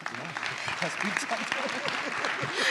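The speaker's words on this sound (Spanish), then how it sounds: "Denle un aplauso a mi esposo" Applause from a church congregation, asked for the speaker's husband, sounds as steady clapping throughout with voices talking over it, fairly close and moderately loud.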